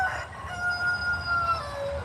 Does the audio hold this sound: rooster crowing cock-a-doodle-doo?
yes